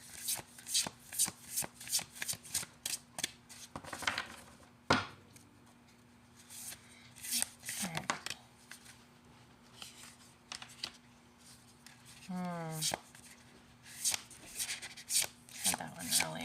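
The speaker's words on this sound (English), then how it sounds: "sometimes these specific cards, they shuffle so nice" Rapid riffling bursts of cards being shuffled repeat up close, with a few sharp taps, and a voice talks quietly in between.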